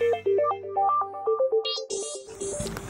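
A new mobile phone rings with a bright melodic ringtone of stepped tones, loud and close, switching to a buzzier high alert pattern near the end; no one speaks.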